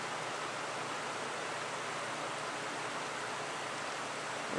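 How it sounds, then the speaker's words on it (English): A small mountain creek flows in Montana, heard as a steady, broadband water rush that stays even and continuous throughout, moderately loud and with no voices. "There's a little creek down there in the bottom."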